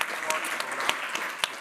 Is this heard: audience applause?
yes